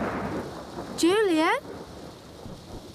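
Heavy rain and rumbling thunder from a thunderstorm sound steadily behind a voice that calls out once with a rising pitch.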